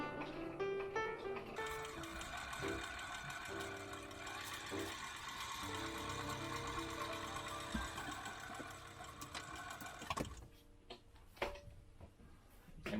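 A sewing machine stitches a homemade fabric face mask, running in steady mechanical bursts with ticking needle strokes, then stopping toward the end among quieter handling noises.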